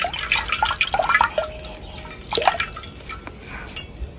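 Water dripping and splashing as coriander is washed outdoors for chicken biryani, with irregular close drips and small splashes, then fainter trickles.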